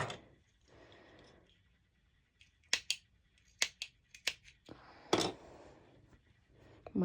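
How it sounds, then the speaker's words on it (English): Several sharp snipping clicks from thread clips cutting loose threads on fabric, spaced irregularly, close and crisp, with quiet pauses between small bursts of cutting; brief rustling noise at the start. "I'm just simply cutting the loose threads"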